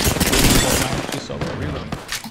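Bursts of Apex Legends gunfire, a dense fusillade of rapid shots at fairly close range, fading briefly mid-clip before another burst and scattered shots, with faint voices under the action.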